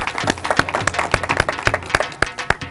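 Hands clap in a steady, even rhythm, about four sharp claps each second at moderate loudness, with little else around them.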